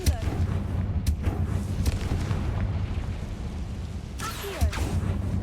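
Repeated blasting-spell explosions from the Hogwarts Legacy video game, a dense run of heavy booms and crackling bursts with sharp impacts near one second and again around four seconds, loud and continuous.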